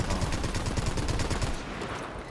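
Rapid gunfire in a video game, a dense burst of repeated shots at close range, loud and continuous before easing off slightly at the end.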